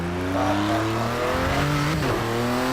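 Ford GT racing on the Circuit of the Americas in Project CARS 2, its engine loud and close as it revs up through rising gears, with a brief dip and shift near the end.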